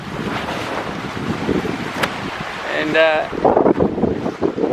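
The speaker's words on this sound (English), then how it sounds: "Wind is taking and pulling." Wind gusts and buffets a sailboat at sea during a South Atlantic crossing, with a steady rushing roar and water noise. A person speaks briefly over it.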